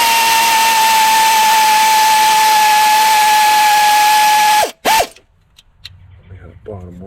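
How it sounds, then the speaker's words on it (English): Power ratchet or drill driving bolts in a garage shop, a loud steady high whine that winds down sharply, followed by quieter clicks and a voice speaking. "Now you want to run these bolts in equally, best you can."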